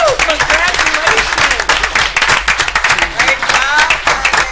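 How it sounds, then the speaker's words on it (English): Audience applause at a city council meeting, dense rapid clapping from a crowd with whoops and cheering voices mixed in, sustained and loud throughout. "Now we can clap."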